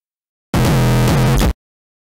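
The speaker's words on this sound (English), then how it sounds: "This makes some really harsh distortion LOL." A harsh, distorted extratone synth built in FL Studio blares in one loud, saturated one-second burst, buzzing and noisy, with silence before and after.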